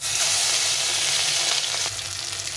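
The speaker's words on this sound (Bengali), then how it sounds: "এই চালের গুঁড়োর মধ্যে একটু করে ডুবিয়ে নিয়ে আমি তেলে দেবো।" Katla fish roe coated in rice flour fries in hot oil, a loud, dense, crackling sizzle that fills the whole stretch without pause, close up.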